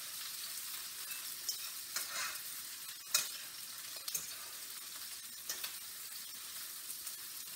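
Potatoes and onions fry in a pan as they are stirred. A quiet, steady sizzle is broken by occasional scrapes and one sharper clack of the utensil, with no voices.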